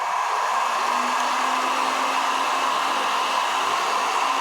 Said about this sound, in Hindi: ये है हॉट एयर गन, इसके जरिए से मैंने अभी गर्म करूँगा।